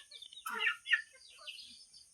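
Chickens being fed in a Filipino backyard give a few soft, quiet clucks and chirps in short bursts, with no other sound around them.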